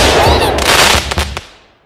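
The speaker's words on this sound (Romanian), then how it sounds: "Nu, e petardă." A loud, close bang from a firecracker, with a sharp crackle and a brief rumbling tail that fades quickly.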